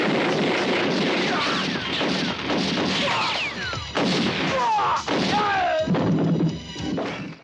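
Film shootout with loud, dense gunfire and crashing impacts layered over a driving score, continuous and close throughout.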